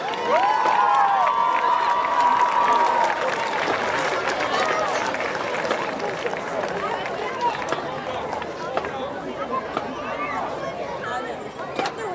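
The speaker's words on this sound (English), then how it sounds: "how about a nice round of applause for your queen" At a 2019 homecoming football game between South Western and Red Lion, the stadium crowd applauds and cheers for the homecoming queen and her court, a steady roar with scattered whoops and a voice mixed in near the start.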